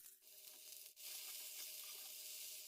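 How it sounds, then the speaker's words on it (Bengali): Sliced ridge gourd frying in a pan gives a soft, continuous hiss that dips briefly near the start, ending in a sudden loud knock; quiet and close, with no one speaking. "ঝিঙেটা এবার ভেজে নেব।"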